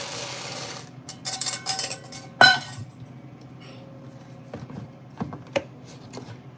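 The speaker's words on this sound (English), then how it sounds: "Go to Costco, get a big bag of oats, drop them in the blender" Dry oats tumbling into a blender jar in a home kitchen, a few loud rattling clusters of grains striking the container, then quieter scattered ticks and clinks with no talk.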